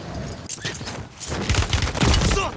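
Gunfire in the video game Call of Duty MW3, a burst of loud overlapping shots and impacts dense with game effects through most of the moment.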